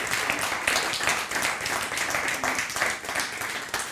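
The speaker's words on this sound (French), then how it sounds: "Donnez une acclamation pour Jésus qui ne refuse jamais de prendre son temps." Church congregation applauds and cheers for Jesus in a steady, fairly loud burst of clapping with a slightly pulsing, rhythmic feel.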